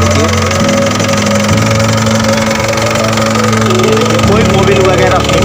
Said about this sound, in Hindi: ये देखिए इंजन स्टार्ट हुआ